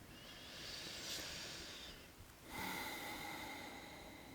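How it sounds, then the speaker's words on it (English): Slow, deep breaths during a live yoga class for balance, a soft airy inhale followed by a brief pause and another long breath, quiet and close with no talking. "sit here and breathe with me"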